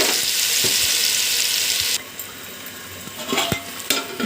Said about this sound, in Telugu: ఇప్పుడు మనము ఒక అరగంట పాటు నానబెట్టుకున్న ఈ చికెన్ను కూడా ఇందులో వేసుకోవాలి